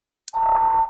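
A fire alarm loudspeaker in a law school building starts after a brief click and sounds a steady, loud electronic tone close by, with no one talking.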